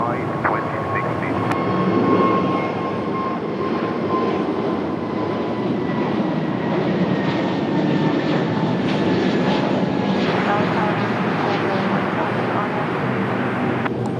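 Frontier Airlines jet taking off from runway 23 right at Raleigh-Durham International Airport, a loud sustained engine roar with a whining tone that holds steady throughout the takeoff roll and climb.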